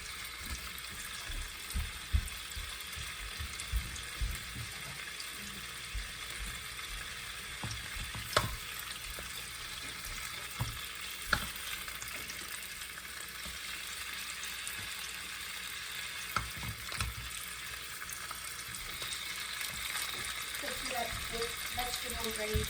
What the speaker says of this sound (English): Vegetables ready to sear and saute.